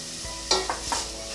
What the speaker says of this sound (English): As I say, saute, just keep them moving around the saucepan